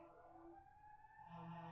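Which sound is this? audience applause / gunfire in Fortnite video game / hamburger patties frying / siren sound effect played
siren sound effect played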